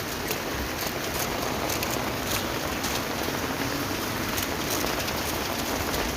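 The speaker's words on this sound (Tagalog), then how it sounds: "Kulimlim at malakas ang ulan." Heavy rain pours steadily in Hong Kong, a dense, loud, unbroken hiss of downpour on surfaces with no voices.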